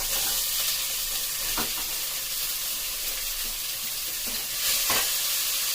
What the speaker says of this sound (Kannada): ಆನಿಯನ್ ಸ್ವಲ್ಪ ಫ್ರೈ ಆಗ್ಲಿ.